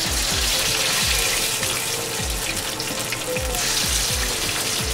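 Chicken fries in a pan with a steady, loud sizzle and crackle, regular popping bursts throughout.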